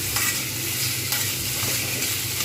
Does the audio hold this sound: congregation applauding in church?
no